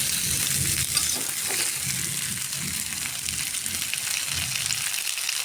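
Tender ridge gourd with papaya and potato fries and is stirred in a pan, a steady close sizzle with scraping stir noises rising and falling throughout, no voices.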